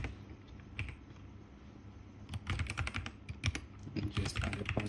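Clicking keystrokes on a computer keyboard while a password is entered, quiet scattered taps at first that build into a denser, faster run of close keypresses.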